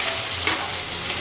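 Ginger paste fries and gets stirred in a pan over steady broadband sizzling, with one brief scrape of the spatula partway through.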